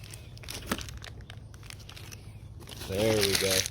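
Magazine paper is pressed onto wet paint and crinkled, giving soft rustling and crumpling that grows louder near the end, heard close under a person talking.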